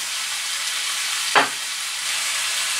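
Vegetables stew in a pan with tomato paste, a steady sizzle and constant bubbling hiss, broken once by a brief clink midway.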